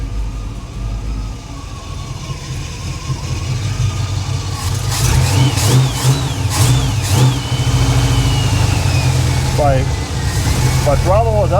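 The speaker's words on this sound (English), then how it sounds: "Sounds like it's missing when I'm giving it throttle. Hesitating a little bit." The V8-era engine of a 1977 Chevrolet Monte Carlo idles, then revs under throttle with an uneven, stumbling miss and hesitation; loud and close, with someone talking over it.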